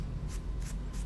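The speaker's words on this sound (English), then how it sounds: "You have to spray it first before it'll tell you if it needs cleaning" Short hissing bursts of cleaning spray from a spray bottle in a video game, three quick puffs spaced about a third of a second apart over a low background hum.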